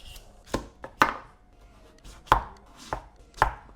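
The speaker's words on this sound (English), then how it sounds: "So peel and then chop up." A knife chopping peeled butternut squash into roughly inch-sized cubes, giving about seven sharp, separate thuds on a board at an uneven, unhurried pace, close and clear.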